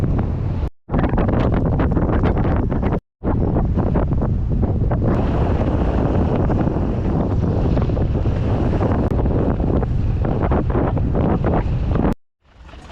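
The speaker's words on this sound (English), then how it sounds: "We're heading downhill, but we still have to pedal because we got a heck of a headwind today." Strong headwind roars across the microphone while cycling downhill on a touring trip near Grand Forks, British Columbia, as a loud, continuous buffeting rumble with two brief dropouts.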